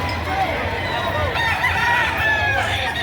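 Chickens for sale at the Padre Garcia market in Batangas cluck and crow steadily through a busy, noisy market crowd, with a rooster's crow rising partway through.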